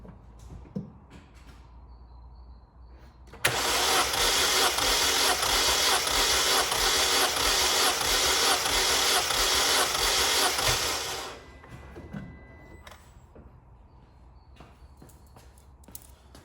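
A 2007–2013 Mini Cooper S R56 engine cranking on the starter for about eight seconds during a compression test, a loud steady rhythmic churning that starts abruptly and then winds down, with quieter handling noises before and after.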